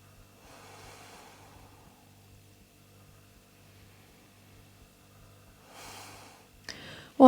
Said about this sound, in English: Take 3 more deep breaths here before we start to move.